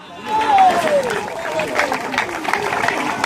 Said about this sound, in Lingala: Ok tokoki kobeta maboko.